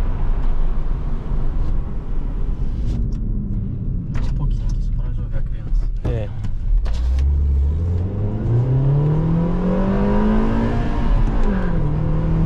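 A Suzuki Swift Sport accelerates from inside the cabin, its engine note sweeping steadily upward through the gears as it builds speed, loud and continuous, with a person's voice briefly heard over the drone.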